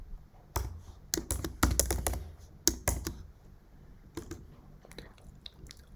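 Typing on a computer keyboard while writing code, quick clusters of crisp key clicks in uneven bursts with short pauses, close and alone.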